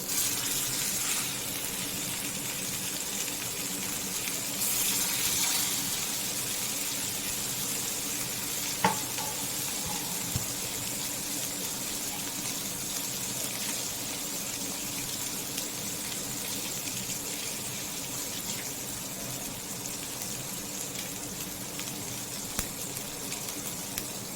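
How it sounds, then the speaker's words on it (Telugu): Fish pieces hit hot oil and fry with a steady, loud sizzle that holds evenly for the whole stretch. A brief crackle stands out partway through, and nobody talks. "ఈ ఫిష్ని ఈ ఆయిల్లో వేసుకుందాం"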